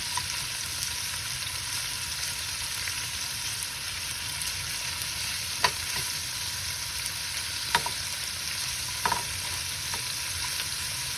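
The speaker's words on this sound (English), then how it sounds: "we don't need to fry them too much, just in order to get some color really" King prawns frying in a pan for Greek garides saganaki, a steady loud sizzle throughout with a few faint clinks and scrapes as the prawns are turned, no voices.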